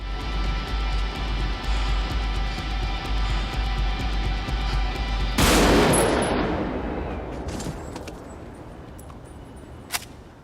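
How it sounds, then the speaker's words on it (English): A single loud movie gunshot rings out after a dense, rumbling bed of atmospheric sound drops away, its sharp crack followed by a long fading tail and a faint later click. "The sound drops, the atmospheric sounds, to leave room for that one bang, one shot that ends it all."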